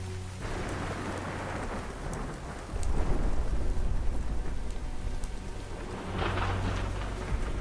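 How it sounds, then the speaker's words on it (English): Thunderstorm with steady heavy rain hissing throughout and deep rolling rumbles of thunder swelling twice, loud and enveloping with no voices. "The storm is cover for a raid."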